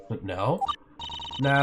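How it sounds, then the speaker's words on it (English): A mobile phone rings nearby with a tonal electronic ringtone that repeats in bursts, while people speak briefly over it. "Oh, that's my phone. My parents are looking for me."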